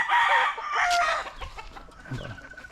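Hens clucking and cackling close by on a farm, with a rooster-like call and several overlapping bird voices, fairly loud.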